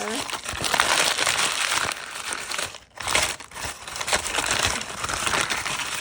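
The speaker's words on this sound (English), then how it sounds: "so I'm going to crumple that some more." A paper bag is crumpled up by hand for a Valentine paper-heart craft, giving close, continuous crinkling and crushing with a short break near the middle.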